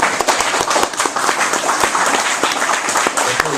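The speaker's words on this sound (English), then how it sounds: "Perhaps if you should save your applause to the end" Audience applause at a poetry reading in a bar, a dense burst of many hands clapping close and loud, steady throughout with no pause.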